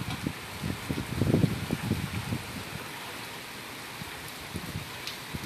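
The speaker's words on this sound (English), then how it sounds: "Watching the rain with me." Rain falls steadily ahead of Hurricane Zeta's landfall, a soft continuous patter with a cluster of closer drips and splashes early on, moderately faint and heard alone.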